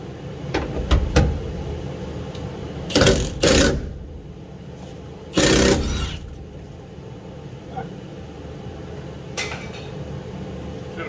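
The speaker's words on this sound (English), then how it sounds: "So I decided to drill out the bolt" Power drill boring out a broken bolt on the cab of a 1974 Ford F100 under rebuild, sounding in two short, loud bursts of about a second each, with quieter clanks and knocks between them.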